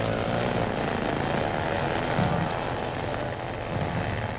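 Loud, continuous engine roar with a dense, rough drone that holds steady throughout, like several motorcycles racing close by: 1950s motorcycles of various classes in a cross-country race in Latvia.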